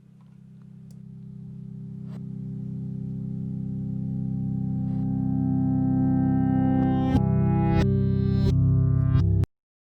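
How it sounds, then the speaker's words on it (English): A guitar sample plays backwards at half speed, a slow swelling drone of low, smeared tones that grows steadily louder, with reversed plucks building toward the end before stopping abruptly. "Here's what it sounds like going half speed in reverse."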